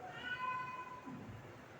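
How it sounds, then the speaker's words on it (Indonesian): A cat meows a couple of times, the calls rising and wavering in a mosque setting during a religious study gathering, moderately close over a faint room background. "kucing."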